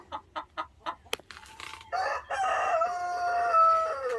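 Chickens in a hen house: a run of short clucks, then a sharp rooster crow rising over overlapping cackling and clucking, close and fairly loud.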